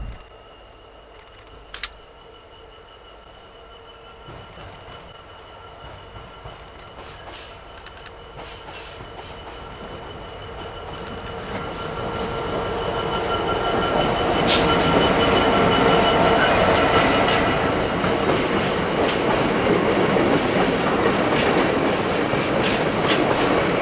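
A heavy freight train with its locomotive approaches and passes at a busy railway spot around Peak Forest and Buxton, swelling from a distant rumble to a loud, sustained roar of wagons and clattering wheels with a faint squeal.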